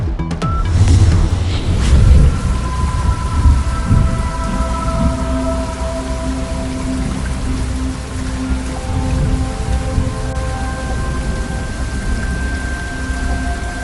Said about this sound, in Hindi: पंजाब के कई शहरों में बारिश से जल थल एक हो गया